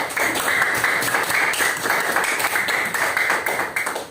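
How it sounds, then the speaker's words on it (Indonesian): A classroom of students applauding a classmate, brisk close clapping from a small group that holds steady for a few seconds without talk. "silakan tepuk tangan buat Eza"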